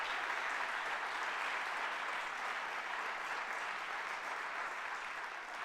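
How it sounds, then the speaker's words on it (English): A crowd at a city's State of the City address gives a big, sustained round of applause, a thick and uniform roar of clapping hands that holds steady from start to finish. "let's give her a big round of applause"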